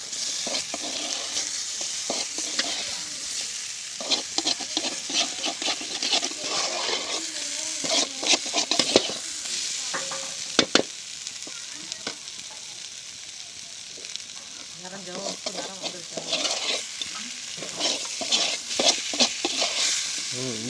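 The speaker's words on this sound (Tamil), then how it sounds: "அடியில் பிடிக்க விடாமல் கிண்டணும்." Raw banana fries in hot oil in a pan during village-style cooking, a steady sizzle running throughout with frequent scraping and stirring strokes of a spoon against the pan, fairly close and without talking.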